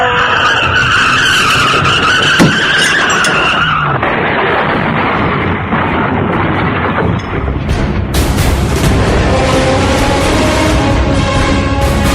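Loud tires screech in a long, piercing skid as a car brakes for a truck crossing an intersection, joined by rumbling impacts and engine noise, building toward a violent crash.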